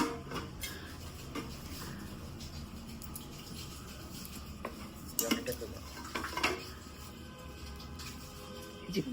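Close metal bowls, baskets and small kadai pans clink and clatter as they are handled, in scattered knocks with a few louder bangs, over a quiet background.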